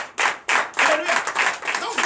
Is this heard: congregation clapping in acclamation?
yes